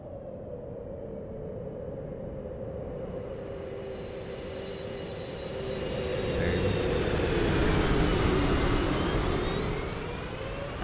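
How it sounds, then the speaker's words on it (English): Thrust reversers roaring on a Boeing 737 MAX 8 after touchdown in a flight simulator, a steady loud jet rumble that swells in the middle and carries a rising whine, with no voices. "That's the reversers."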